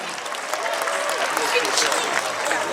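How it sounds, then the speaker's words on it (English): Festival of Lights 2023 audience applauding Kathak dancers after their performance, a steady dense wash of clapping from a crowd filling the hall, sustained at even loudness for the whole stretch. "Big round of applause for Kathak dancers."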